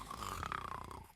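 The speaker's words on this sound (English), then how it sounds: "He dozed off fast, and soon enough I heard it snoring." A character snoring in The Hungry Lamb, one drawn-out, rumbling nasal snore with a rough tonal buzz, moderately close and alone.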